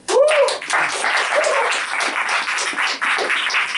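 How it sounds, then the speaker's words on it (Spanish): Applause from a small audience at a cultural talk welcoming a guest: dense, steady clapping filling the room for a few seconds, with voices calling out over it near the start. "un gran aplauso para Antonella"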